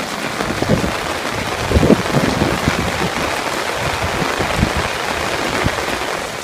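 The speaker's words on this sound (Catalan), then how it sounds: "El ruixat s'intensifica." A heavy rain shower pouring over Barcelona, a loud dense roar of water with scattered heavier splashes and drops, steady and close for several seconds.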